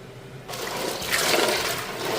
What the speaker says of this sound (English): all I'm going to do is dump them straight into the ice water.